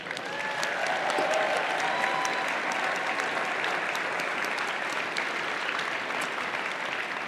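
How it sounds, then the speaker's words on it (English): A large crowd at a FIRST robotics district event gives a loud, sustained round of applause for volunteers. The clapping is dense and steady, with faint voices and whistles woven through it. "Let's thank them once more with a loud round of applause for all of their work"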